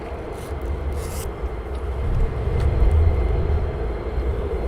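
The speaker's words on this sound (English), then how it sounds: "So we do have two F35s joining the downwind very shortly" Two F-35 fighter jets joining the downwind at RAF Lakenheath, a steady broad roar of jet engines that swells toward the middle and stays loud, continuous throughout with no talk.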